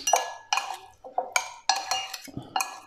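A utensil stirs and mixes Italian-style tako squid salad in a bowl, giving about seven sharp clinks and scrapes spaced roughly half a second apart, close and moderately loud, with no talk.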